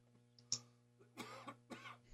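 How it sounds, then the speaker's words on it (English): A single person coughs in a quiet radio-show room with a low electrical hum, a few short bursts near the end after a small click. "I had to cough."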